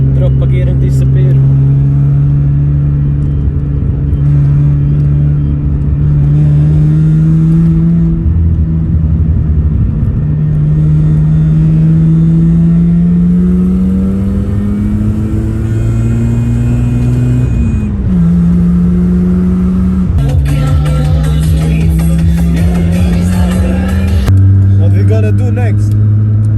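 A Mazda RX-7 FC rotary engine revving as the car accelerates, a loud, close, buzzing drone that climbs in pitch through the gears with brief drops at each shift, with voices over it.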